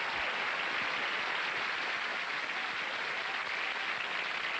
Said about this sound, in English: How about a nice round of applause for our judges?